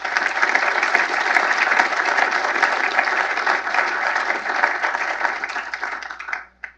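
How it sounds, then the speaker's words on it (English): A lecture audience at the B.C. Lee Lecture breaks into dense, sustained applause, a loud even wash of many hands clapping for several seconds before cutting off abruptly. "please join me in applause for his memory and the great work of our friends at Samsung"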